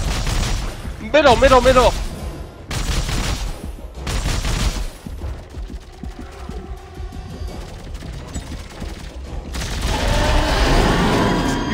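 In a Dead Space 3 co-op fight, a pulse gun fires in loud rapid bursts with booming impacts, close up, while players talk over the action.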